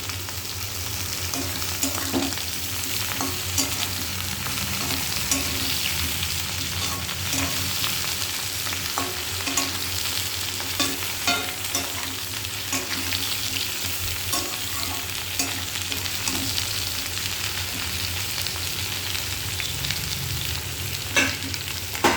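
Cut brinjal (eggplant) and slit green chili frying in a pan, a dense, continuous close sizzle with faint crackles and occasional stirring scrapes throughout.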